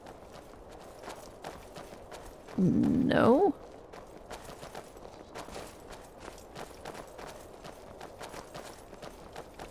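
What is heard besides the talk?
horse hooves clip-clopping in video game Skyrim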